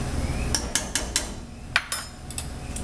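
A spoon stirs kitchri in a pot, giving several sharp metallic clinks and taps against the pot in an uneven rhythm over a low background rumble, close and fairly clear, with no talking.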